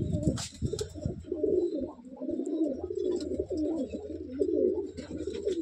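Madrasi and Giribaz fancy pigeons in a loft coo close and clearly, a dense run of rolling, throaty coos repeating almost without pause.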